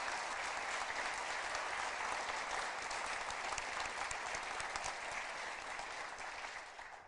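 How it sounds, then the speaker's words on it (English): Steady applause from an audience at the South Dakota budget address, a dense, continuous patter of many hands clapping that holds evenly, then thins slightly at the end. "give Liza and her team a round of applause"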